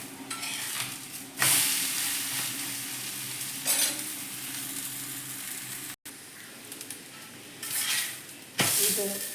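North Karnataka-style talipattu flatbread fries in oil on a griddle, a constant close sizzle broken by several scraping turns of a spatula against the pan.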